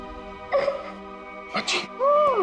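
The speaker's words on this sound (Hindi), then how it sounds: "रोने की आवाज" A woman sobbing and whimpering in short bursts, her voice wavering and rising into a strained, pitched cry near the end, close and fairly loud against a quiet room.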